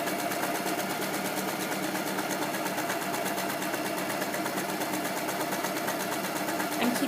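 A sewing machine runs steadily while stitching fabric, a close, continuous rapid mechanical whir and clatter of even rhythm, with no pauses and no talk.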